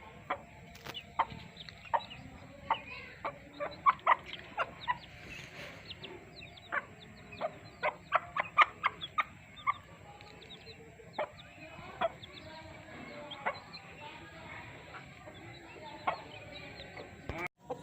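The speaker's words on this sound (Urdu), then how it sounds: "یہ مرغی نے ابھی بچے نکالے ہیں" A hen with newly hatched chicks makes quiet clucking, and the chicks give many short, high cheeps scattered throughout. The sounds are soft and steady, and low background noise runs underneath.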